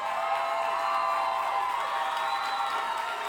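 Crowd applause and cheering for pageant contestants at a Black college queens competition, a steady wash of clapping with scattered whoops from a large audience, sustained throughout.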